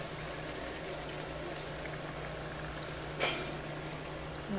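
Coconut milk poured into a pot of cooking vegetables, a steady close bubbling simmer with a brief splash of pouring liquid near the end, fairly quiet and without speech.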